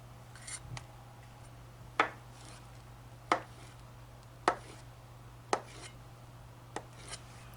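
A knife slicing vegan crabmeat into very thin strips, heard as six or so crisp, evenly spaced cuts against a board, close and quiet with a low steady hum beneath.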